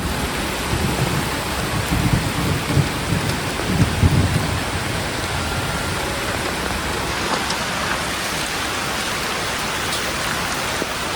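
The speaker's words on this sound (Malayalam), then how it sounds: "ഓ ഇടിയും പെട്ടെന്ന്." Heavy rain pours steadily and close by while low thunder rumbles through the downpour, with no voices.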